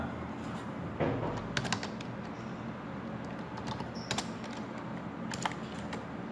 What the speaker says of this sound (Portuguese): Então vamos digitar o mesmo conteúdo.